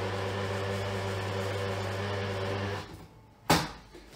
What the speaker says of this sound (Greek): ακούστε πώς ζωρίστηκε το μίξερ κατευθείαν, γιατί το μείγμα μου είναι σφιχτό